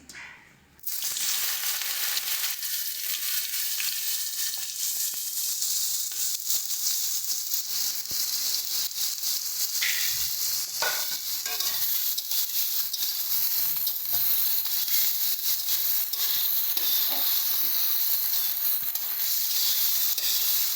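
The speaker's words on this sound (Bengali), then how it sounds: "তেলটা গরম হয়ে গেছে এবার এর মধ্যে আমরা বেগুনটা দিয়ে দিচ্ছি" Eggplant pieces dropped into hot oil for frying greens, a sudden loud sizzle that settles into a continuous close crackling hiss with occasional stirring scrapes, no voices.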